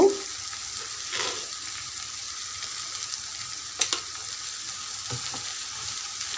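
Bitter gourd pieces frying in a pan, seasoned with red chili powder and salt, give a steady soft sizzle with a few faint scrapes as they are stirred.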